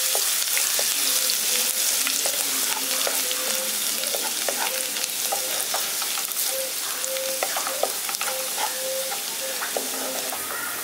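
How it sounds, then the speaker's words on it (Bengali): Chopped garlic fries in oil in a wok with a steady, dense sizzle and crackle throughout, joined by occasional faint scraping of a stirring utensil. "রসুনটাকে হালকা একটু ভেজে নিচ্ছি।"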